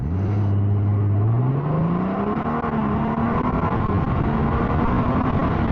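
A 2025 Honda Goldwing Tour DCT touring motorcycle engine revs up hard in tour mode and climbs steadily in pitch as it accelerates, loud and close, with no talking.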